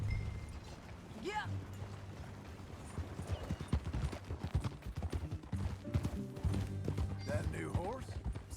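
Horse hooves clip-clop at a walking pace in Red Dead Redemption 2, a steady nearby rhythm of hoofbeats joined by a brief whinny and game sounds, while voices speak over it.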